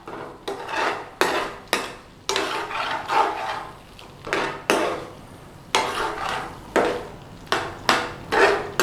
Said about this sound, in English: Stir it round. Loosen it up off the bottom of the pan.